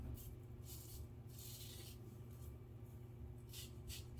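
A M.A.R.S. safety razor scrapes across stubble in loud, rasping strokes, several hissy bursts in a row over a steady low background hum.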